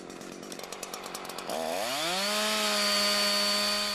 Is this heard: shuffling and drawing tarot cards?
no